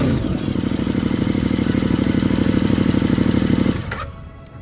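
A motorcycle fitted with a cheap universal aftermarket exhaust bought on eBay runs loud and close with a fierce, steady throbbing beat, then cuts off abruptly near the end.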